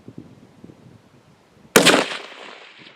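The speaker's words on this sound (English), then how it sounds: "Now let's get on to some shooting and show you what this scope can really do." A single sharp rifle shot fired by a shooter using a Vortex Viper PST 4-16x50mm scope, a loud crack followed by a decaying outdoor echo after quiet low rustling.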